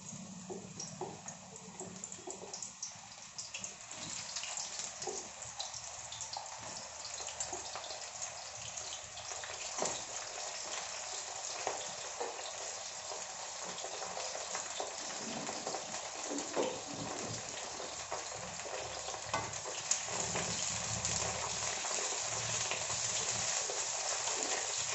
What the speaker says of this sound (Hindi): एबे आमे पोटल को फ्राई करबा तेल रे फ्राई करबा।